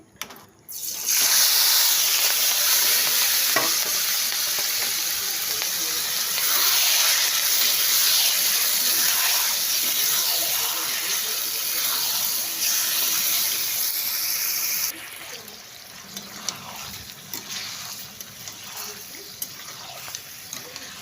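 Pieces of meat dropped into a hot pan set up a loud, steady hiss of sizzling and frying that holds for about fourteen seconds, then drops to a quieter, crackling sizzle.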